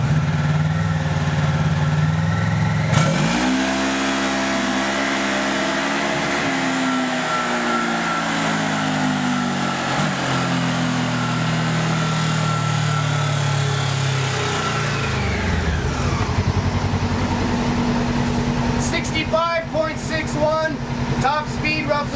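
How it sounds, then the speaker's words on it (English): A 2011 Polaris RZR XP 900 engine runs on a dyno, starting with a loud idle, then revving up into a sustained high-pitched roar that holds and climbs before dropping back, with a voice speaking near the end. "do our first baseline dyno run here on the 2011 Razor XP"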